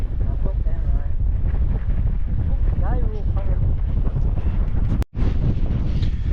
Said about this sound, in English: The wind was absolutely horrendous.